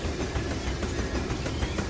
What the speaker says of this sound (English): That damn train is loud.